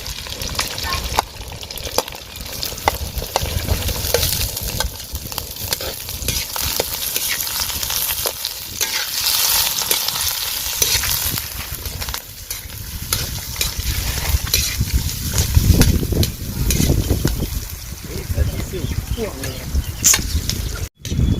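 Shallots frying and being stirred in a pan for an Indian crab curry, a steady crackling sizzle with scraping stirs running throughout, fairly close and continuous.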